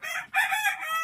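A rooster on a Fayoumi chicken farm gives a single short crow, close and clear, with no talk over it.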